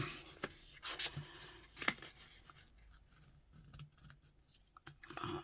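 Scissors trimming wallpaper, quiet close snips and paper rustles in short bursts, then softer handling sounds.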